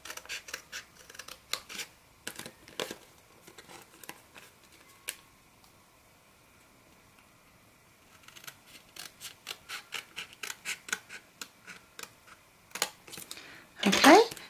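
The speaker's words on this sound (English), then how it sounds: "And now we are going to cut along that line." Scissors cutting through folded card along a line, a series of crisp snipping clicks in clusters with pauses between, close up and fairly quiet.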